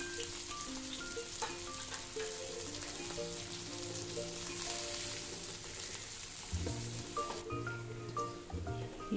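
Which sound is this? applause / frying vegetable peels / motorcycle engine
frying vegetable peels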